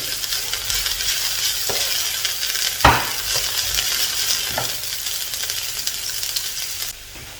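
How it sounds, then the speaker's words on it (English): Steady sizzle of chicken stir frying, with a few sharp scrapes of a utensil stirring it around a pan, close and continuous. "you start by stir frying your chicken"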